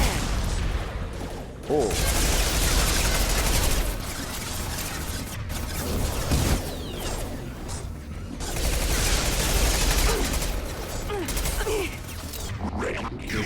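Sustained bursts of gunfire in Mass Effect 2 Legendary Edition during a fight with a mech, dense mechanical clatter and impacts in repeated waves, with a brief exclamation from a player.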